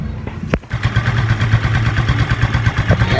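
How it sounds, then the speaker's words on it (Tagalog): A Yamaha Mio Sporty scooter engine starts with a short crank, then settles into a steady, close, even idle with a regular low putter and fairly loud, continuous running. "So paanda rin natin para uminit yung makina ng ating Mia Sporty na si Misol."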